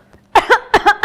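A short burst of coughing, four sharp coughs in two quick pairs after a brief quiet moment.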